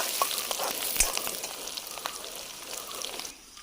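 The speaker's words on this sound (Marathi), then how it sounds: "तेल तापले आहे सुसाटमध्ये ही टाकली लसूण ही टाकली मिरची" Garlic and chili sizzle in hot oil during outdoor jungle cooking in Konkan, a steady crackling hiss that runs throughout, with a brief sharper pop near the start.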